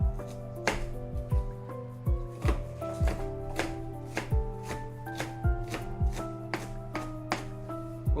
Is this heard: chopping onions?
yes